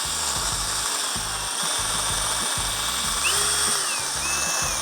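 A handheld power drill with a mixing paddle stirs Moglice 628 epoxy compound at a steady low speed, a continuous close whirring motor hum with rhythmic churning pulses, no talking.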